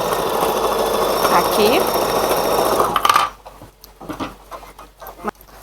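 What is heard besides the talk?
electronic embroidery machine sewing a safety stitch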